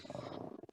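A pet cat named Kitty purrs briefly and up close in a home, a soft, steady rumble lasting under a second.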